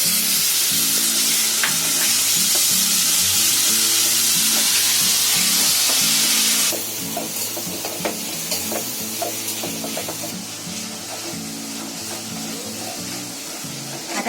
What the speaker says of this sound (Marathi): आता पेस्ट टाकली ना टोमॅटोची.